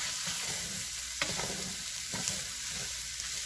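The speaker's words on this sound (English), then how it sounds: "I'm just going to let this cook down for a few minutes." Chili vegetables softening in a pot, a constant soft sizzle with a couple of distinct spoon scrapes and knocks against the pot, close by with no voices.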